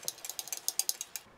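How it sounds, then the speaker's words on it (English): A spoon stirs beef ravioli in meat sauce inside an MRE pouch, giving about a dozen quick, light clicking scrapes in a steady rhythm, close and fairly quiet, with no talking. "Put the spoon in there and give it a stir."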